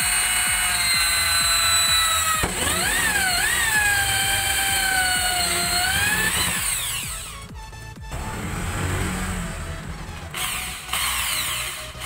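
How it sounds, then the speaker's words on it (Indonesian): A power drill with a hole saw whines steadily cutting through PVC, its pitch rising and dipping as it bites, with grinding and brief pauses before the whirring resumes. "kita bor menggunakan holso sesuai ukuran"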